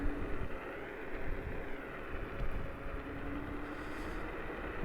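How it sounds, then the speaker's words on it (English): Steady wind buffeting the microphone while riding a 2000-watt dual-motor VARLA Eagle-One electric scooter near full throttle, a continuous low rumble with gusty swells throughout and no talking. "getting a little windy"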